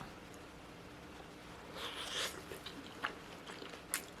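Close, quiet bites and chewing of a GS25 convenience store rice bowl with beef tripe, cheese and seaweed, a few soft crunches and mouth sounds over a faint background hiss, no talk.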